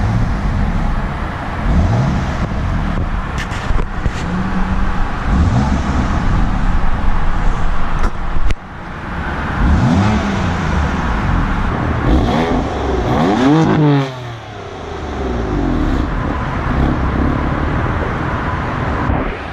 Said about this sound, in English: And now that the engine is warmed, let's go ahead and see how she sounds.